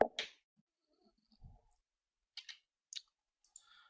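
Computer mouse clicks while working in the Premiere program monitor: a handful of faint, sharp clicks, one at the start, then a close pair and another pair, with a last one near the end, in near silence.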